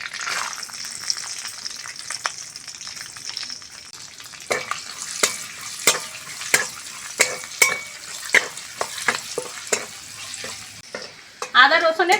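Chopped garlic and ginger fry in oil in a wok, a bright steady sizzle with a burst as they hit the hot oil and repeated sharp scraping clicks of a spatula stirring.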